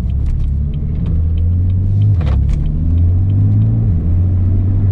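Deep, steady engine rumble of a BMW M4 cruising, recorded from inside, with small shifts in pitch and a few faint rattles.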